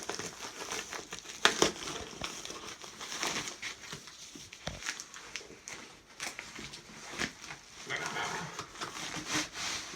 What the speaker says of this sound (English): Rip it open.